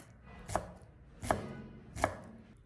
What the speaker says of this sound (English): She cuts the celery into tiny granules so they are tender and don't get caught in the teeth